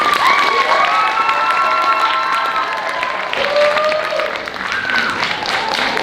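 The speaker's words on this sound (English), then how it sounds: "please give a big round of applause for Miss Landis" School talent show audience applauding and cheering for a closing performance, a dense sustained wash of clapping with excited children's shouts and whoops rising over it throughout.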